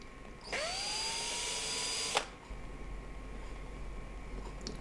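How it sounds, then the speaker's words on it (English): Cordless drill spinning up to deburr drilled holes in metal, a loud steady high-pitched whine held for over a second and a half, then cutting off abruptly, leaving quiet room noise. "So now I'm going to deburr with my cordless drill"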